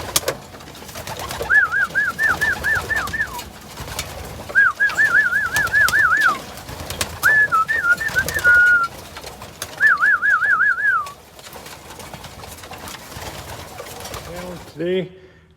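Pigeons call near a drop trap in four repeated bursts of warbling coos, each lasting a second or two, with a faint voice briefly at the end.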